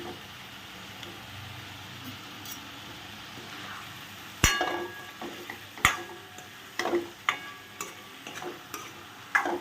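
Potatoes fry in oil in a pan with a soft steady sizzle, while a utensil stirs and scrapes against the pan in a series of sharp, irregular clinks and taps.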